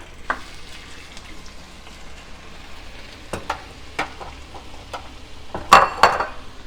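Shrimp go into a hot pan with ginger and garlic for pad thai, a soft steady sizzle broken by a few utensil clinks and louder spatters near the end, close by with no talking.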